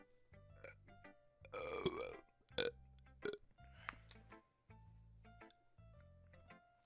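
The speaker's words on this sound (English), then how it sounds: "I'm just full of burps in these YouTube videos" A few loud, close burps, one long and drawn out, separated by quieter pauses and softer bursts.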